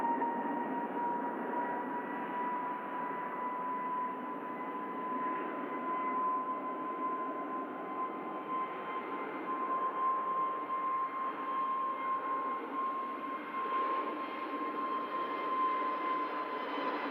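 A Qatar Airways Airbus A350 on approach to land at Manchester Airport gives a faint, distant, steady engine drone with a thin whine running through it, unbroken and with no talk.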